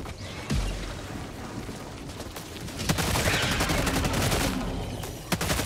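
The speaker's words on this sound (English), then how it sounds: "That mortar has been wasting so much ammo aiming for that spot." Mortar and gunfire in the video game Helldivers 2: a dense, continuous stretch of rapid loud blasts and crackling shots with a few heavier thumps, with no voices.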